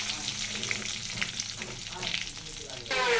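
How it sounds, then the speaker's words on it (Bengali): Onions fry in hot oil with black pepper, cumin and whole garam masala, giving a continuous close sizzle with light crackling and occasional stirring scrapes. "আর আছে এর মধ্যে পেঁয়াজ ভেজে নিচ্ছি"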